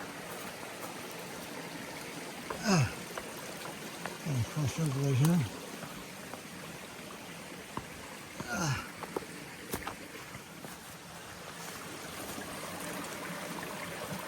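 Water spills out of rocks into a small mountain stream near Bald Mountain Pond, a soft steady trickle running quietly beneath someone talking and brief crunching footsteps as he crosses.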